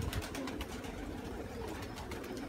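Pigeons coo softly at a distance against a dense background of fluttering, rustling and pecking, a low murmur of birds at close quarters.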